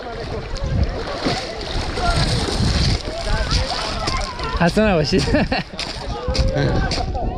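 Kids jumping into the water in Chitab valley, with loud splashes and sloshing amid busy crowd chatter and shouting, close by and continuous throughout.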